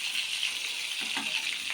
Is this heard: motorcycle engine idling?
no